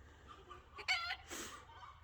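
Noisy backyard chickens cluck and squawk on a sunny day, with two short, loud bursts of calls rising over a low, steady outdoor background.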